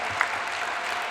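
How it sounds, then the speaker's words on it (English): Audience applause at a high school Hall of Fame ceremony, a soft, even patter of clapping across the whole moment with one slightly sharper clap near the start. "If I could have everybody give him a round of applause"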